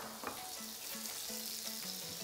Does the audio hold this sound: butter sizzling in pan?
yes